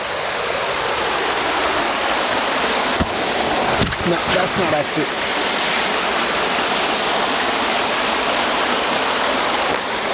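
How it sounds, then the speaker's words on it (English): The Cacao Waterfall on a farm roars with dense, continuous rushing water. A cacao plant grows right at its edge. The falling water is loud and close, and a voice speaks briefly over it partway through. "It's called the Cacao Waterfall"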